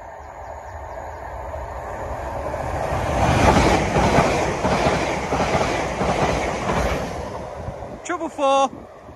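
A Weymouth to London train rumbles past Winfrith foot crossing, building to a loud, close roar with rhythmic wheel clatter before fading, then a horn blares near the end; someone speaks nearby.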